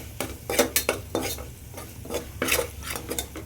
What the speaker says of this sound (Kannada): ಇಷ್ಟು ಕೊತ್ತಂಬರಿ ಹಾಕ್ಬಿಟ್ಟು ಅದೊಂದು ಸ್ವಲ್ಪ 2 ನಿಮಿಷ ಫ್ರೈ ಮಾಡ್ಕೋಬೇಕು.